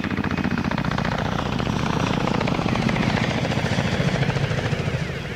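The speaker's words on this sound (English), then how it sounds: "Sounded like a helicopter went by right over the top of the station." A helicopter passes close overhead, its rotor chopping in a fast, loud, rhythmic beat that swells slightly and stays strong throughout.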